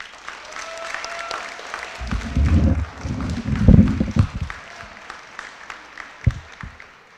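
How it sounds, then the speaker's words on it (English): Applause at a school world language honor society induction ceremony, swelling in a couple of bursts then thinning to scattered claps, with some low rumbling thumps mixed in. "honor our honorable mentions with a round of applause"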